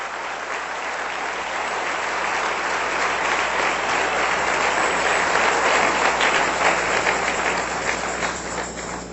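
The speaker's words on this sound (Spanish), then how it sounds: "Den un aplauso a nuestro Dios, que es muy bueno." Sustained, dense applause from a church congregation, a steady wash of many hands clapping that swells slightly in the middle and holds without pause for the whole stretch.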